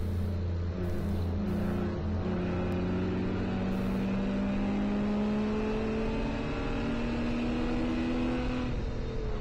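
Endurance race cars at Watkins Glen in a ChampCar Endurance Series race, including Miatas, accelerate hard, heard from inside a car as a loud, continuous engine whine climbs steadily in pitch through the gears, alone without talk.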